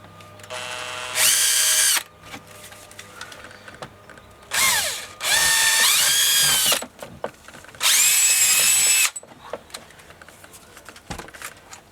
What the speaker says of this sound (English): your 1 1/4 hole saw, which we'll drill out now. Start with a pilot hole.